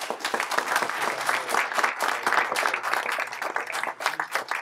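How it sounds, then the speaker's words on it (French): A crowd at a communist party political meeting in France applauds with sustained, dense clapping that keeps going steadily, heard from within the room. "que je vous demande d'applaudir"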